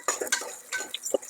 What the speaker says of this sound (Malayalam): നമുക്കൊന്ന് നല്ലോണം ഇളക്കി കൊടുക്കാം